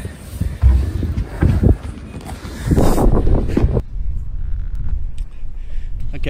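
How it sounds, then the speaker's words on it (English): Strong wind on a rough day outdoors beside a narrowboat buffets the microphone in loud, uneven gusts that ease toward the end. "apologies if it's too windy"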